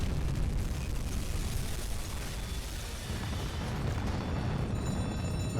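Torpedo hits explode against a ship in the submarine video game UBOAT, heard as a muffled, continuous low rumbling roar that stays steady and faint throughout without distinct separate blasts.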